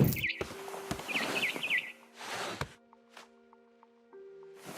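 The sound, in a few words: barn swallow chirping, from video game What Remains of Edith Finch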